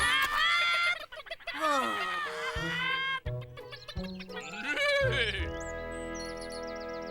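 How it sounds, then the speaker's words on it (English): Cartoon hens cluck in quick, excited bursts close by, mixed with a short spoken exclamation and busy sound effects. "stop clucking so much or you'll make me run off the road"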